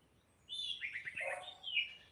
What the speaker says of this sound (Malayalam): ഇവിടെ നിറച്ചും കിളികളുണ്ട് കേട്ടോ